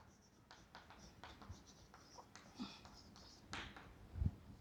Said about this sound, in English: So we'll write cost of Mohit house